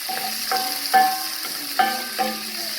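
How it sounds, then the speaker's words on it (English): Chopped garlic sautes in a pan with a soft, steady sizzle. About five bright metallic clinks of a utensil against the pan sound close by at uneven intervals. "I'm going in with my garlic, my chopped garlic. So I'm going to saute these nicely."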